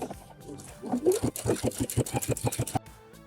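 A sewing machine runs a short back stitch over belt loops on wide-leg pants, giving a quick run of close, rapid mechanical thumps under a faint voice.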